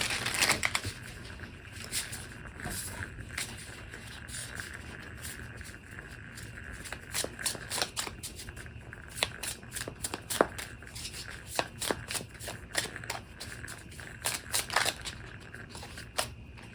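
A deck of Light Seer's Pocket Tarot cards is shuffled by hand, giving irregular bursts of crisp riffling and tapping clicks across a quiet room, with no talk.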